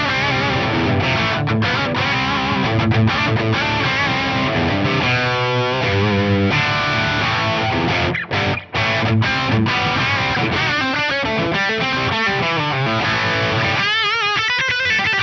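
Distorted rhythm guitar played through an Axe-Fx III amp preset with a London plate reverb, a loud, continuous chugging riff with chords and single-note runs, a brief dropout near the middle, no talking.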